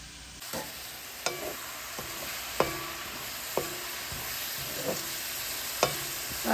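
Cabbage sautéed in a pan for a curry, with regular spatula knocks against the pan about every second over a steady, close sizzle.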